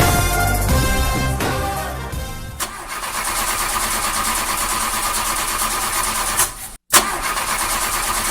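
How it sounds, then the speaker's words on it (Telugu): A car engine cranks over and over without catching, a loud, close starter grind that gives way to a steady rough noise. No voices are heard. "ఇక కారు స్టార్ట్ అయితే లేదు, ఇక నడుచుకుంటానే పోతా."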